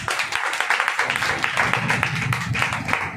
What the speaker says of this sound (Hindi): बार ताली बजा देंगे इसके लिए।